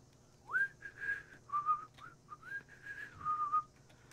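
A player whistles a short, wavering tune of sliding notes, kept soft and close, with a faint steady hum from a game underneath.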